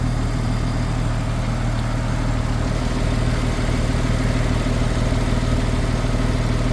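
A Porsche 997 911 S with its 3.8-litre flat-six idles steadily close by, a smooth even rumble with a fast regular pulse and no change in pitch, alone without any talking.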